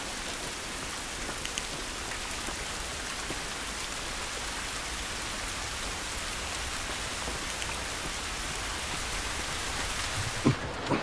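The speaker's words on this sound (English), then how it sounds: "This rain ain't gonna do us any good." Steady, heavy rain pours down in The Last of Us Remastered as a constant hiss with scattered drops, and a few sharper spatters come near the end.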